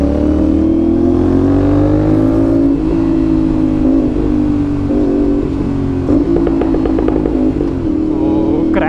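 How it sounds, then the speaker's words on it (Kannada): Aprilia RS 457 motorcycle with an aftermarket exhaust, a loud close engine drone rising and falling on a residential street, with rapid popping crackles on the overrun near the end and brief talk. "ಓ ಕ್ರ್ಯಾಕಲ್ಲಿ ಹೆವಿ ಬರುತ್ತೆ ಗುರು"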